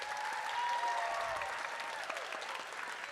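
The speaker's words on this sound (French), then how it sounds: "Une main d'applaudissement pour eux" An audience at a local student performance final claps together in steady, dense applause that holds for a few seconds, fairly close and filling the hall without any voices on top.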